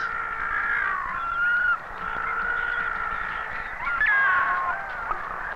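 Little penguins calling at their underground burrows on a slope at night, a steady chorus of harsh, braying cries and trills close by with overlapping voices and no pauses.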